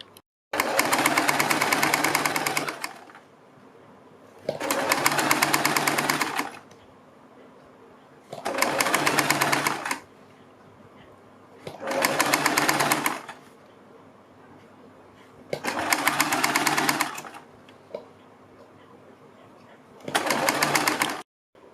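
A sewing machine stitches a kurti neck design in six steady bursts of a few seconds each, separated by short quiet pauses, running close and alone.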